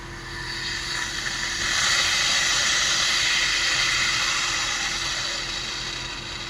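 Compressed air hisses steadily through an opened valve, a loud, close broadband rush that swells after the first couple of seconds and holds, with a faint low hum beneath.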